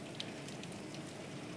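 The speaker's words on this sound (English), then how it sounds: "It is raining so hard." Heavy rain falls in a steady, even hiss, a continuous wash of drops that is fairly quiet and uniform, with no voices.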